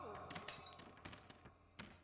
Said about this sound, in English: The glass burst into millions of pieces, sending them flying all across the room